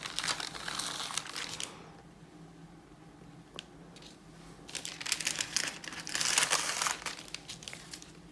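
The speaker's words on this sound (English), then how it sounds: "once they dry, it's just a matter of carefully peeling them off" Dried coffee filters are peeled carefully off parchment paper. Soft, close crinkling and rustling of paper comes in two clusters with a quieter stretch between them, and there is no talking.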